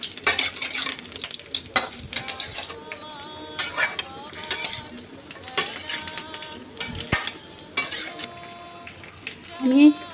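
Raw mango pieces cooking in a pan, stirred steadily with a spoon that scrapes and clinks against the metal over a low sizzle, with brief voice sounds at moments throughout.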